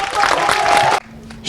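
Applause from a French-speaking audience welcoming the artist MHD at a community event, a dense burst of clapping that cuts off abruptly after about a second, followed by quieter room sound.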